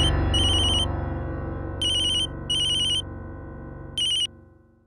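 A telephone rings with bursts of a bright electronic ringtone repeating several times over a steady low background drone, with no talking.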